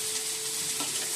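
Drumstick flowers frying in hot oil are stirred in a pan, giving a steady close-up sizzle that holds throughout, with a soft scraping shuffle near the end.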